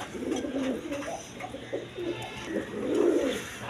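A pair of quality Rajgolla pigeons coo softly nearby in a low, rolling rhythm, with several throaty phrases in a row and a fuller burst near the end.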